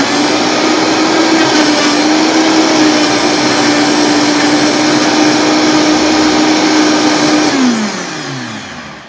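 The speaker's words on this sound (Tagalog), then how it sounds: "And then i-blend ko lang siya. Lagay ko muna sa low." A blender on low speed purees fresh vegetables into a smoothie with a loud, steady motor whine that holds for about seven seconds, then winds down and fades as it is switched off.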